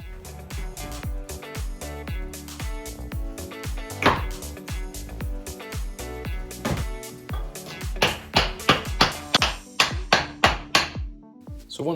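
Wooden workbench leg pieces being bashed together in a small workshop, a series of hard knocking hammer blows that grow quicker and more regular toward the end, close and fairly loud, no talk.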